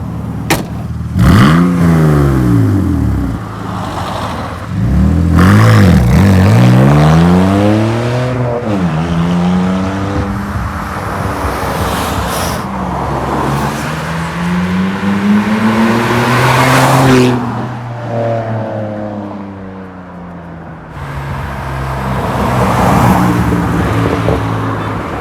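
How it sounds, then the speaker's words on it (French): Modified BMW 330Ci with a stage 1 exhaust revving hard outside, rising and falling engine sweeps with loud roaring pulls, a brief drop in the middle and a final surge, close by and dominant. "on va sortir dehors pour vous faire écouter le pot d'échappement de l'extérieur."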